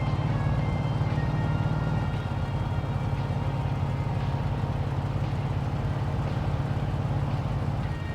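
In the My Summer Car video game, a Ferndale car engine idles with a steady, continuous low rumble that holds at an even, fairly loud level throughout, with no other sounds breaking through.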